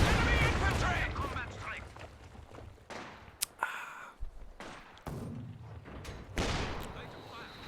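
Repeated heavy 220mm mortar blasts from Soviet artillery in Company of Heroes 2 boom across a battlefield, loud thumps and crackling gunfire layered over one another, with sharp impacts in the middle and near the end.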